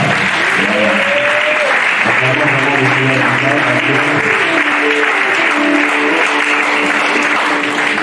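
Loud, continuous applause and acclamation from a congregation welcoming a national coordinator, with cheering voices and tonal shouts rising over the clapping.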